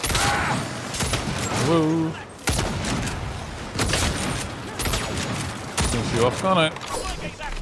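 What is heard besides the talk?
gunfire in the video game Saints Row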